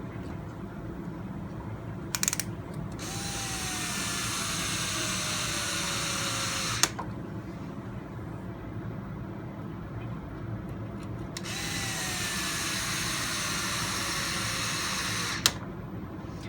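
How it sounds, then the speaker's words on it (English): Two long whirring passes, like a small electric screwdriver driving screws into the aluminum skid plate of an RC 4x4, each ending in a sharp click, over a steady background noise. "now I'm going to put these 2 screws that we pulled out of this lower skid plate mount. We're going to reinstall them all the way"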